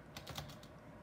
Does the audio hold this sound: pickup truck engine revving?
no